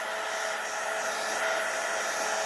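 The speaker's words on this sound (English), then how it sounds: "When you're drying it with a heat gun," A heat gun blows hot air over wet paint on paper, a steady, even, close whooshing hiss with no break.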